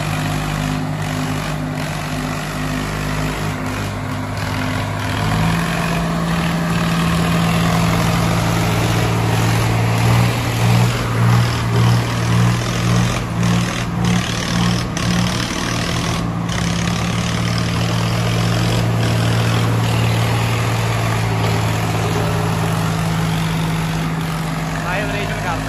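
A tractor engine runs steadily nearby in a loud, low rumbling drone with a brief pulsing surge midway, while voices talk over it.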